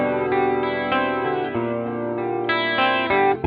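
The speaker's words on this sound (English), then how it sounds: "There's the original one, and there's too much going on for my eyes and ears." Electric guitar through a Boss Katana V3 amp with its original chorus effect, sustained chords shimmering and wavering in a lush modulated wash, played alone with steady, full loudness.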